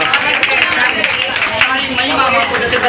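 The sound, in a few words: church congregation clapping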